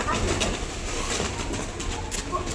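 Pigeons coo softly at a feeding spot amid a busy, noisy outdoor background, the calls faint and steady throughout.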